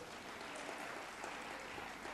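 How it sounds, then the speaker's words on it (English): Steady applause from a crowd, a continuous patter of clapping heard at a distance and fairly faint throughout. "Can we give them a big round of applause?"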